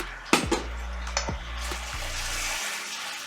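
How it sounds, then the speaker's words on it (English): Heavy cream being stirred into caramel sauce in a pan held off the heat, with a few sharp clinks of a utensil against the pot and soft liquid swishing between them, close up and without talk. "Just stirring this cream, getting it in there off the heat"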